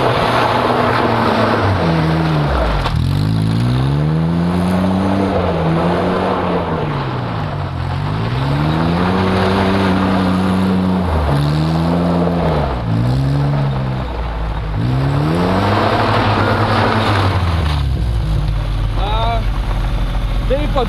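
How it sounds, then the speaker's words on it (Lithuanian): Rental car engine warming up, a loud close idle with a steady low hum and repeated rising and falling revving swells, running continuously for about twenty seconds. "Taip apšildom variklį ir dabar galim važiuoti keliauti"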